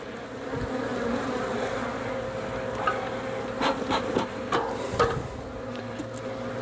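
Honeybees buzz steadily around an opened beehive with Ross Round comb sections, a constant close drone with occasional louder passes near the microphone.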